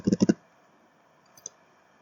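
A mouse clicking a submit button, heard as a quick cluster of three soft clicks close to the mic, then a faint single tick about a second later in near silence.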